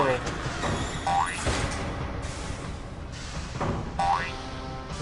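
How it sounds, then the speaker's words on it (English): Video game effects for boxes landing in a platformer: a loud, busy cluster of springy, bouncy thuds with short rising chirps, repeating over about five seconds against a dense electronic background. "You can hear the boxes landing."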